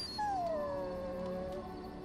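A Mabari war dog in Dragon Age: Origins lets out a single long, clear howl that slides gently downward in pitch and holds for over a second before cutting off, set against quiet game ambience.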